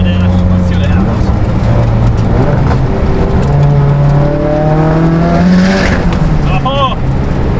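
A Mitsubishi Lancer Evolution X with a fault, being diagnosed, revs up hard: loud engine tones climb and fall through several rising sweeps over a steady roar, close by and continuous.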